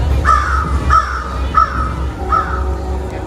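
Crow cawing sound effect in a stage musical: four loud, harsh caws spaced evenly about every two-thirds of a second over a low background rumble.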